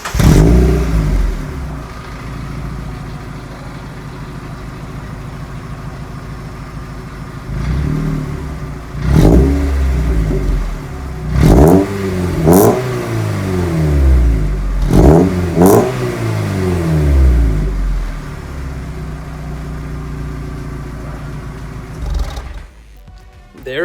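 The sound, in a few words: Mazda Miata NB engine revving with decat exhaust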